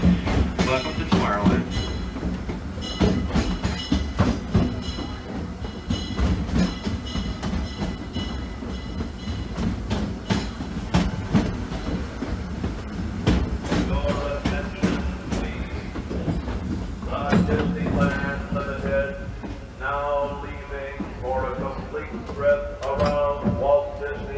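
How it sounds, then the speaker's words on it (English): A Disneyland ride train rumbles and clacks along steadily while voices talk over it, with a recorded announcement-like voice later on. "remain seated on the train and do not exit"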